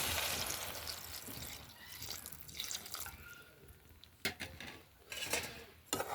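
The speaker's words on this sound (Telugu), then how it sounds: "అయితే వాటర్ని వేసేసుకుంటున్నాము." Water goes into a pan of boiled tomatoes and drumstick pods, a watery splashing pour close by, punctuated by a few sharp clinks of a utensil against the pan.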